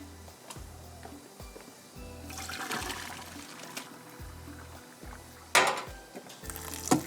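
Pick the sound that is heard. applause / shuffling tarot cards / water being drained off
water being drained off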